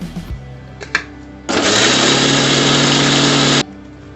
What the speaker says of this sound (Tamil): வீட்டில் இருக்கிற சீனியை வந்துட்டு நீங்கள் மிக்சியில் அரைச்சி சேர்த்துக்கோங்க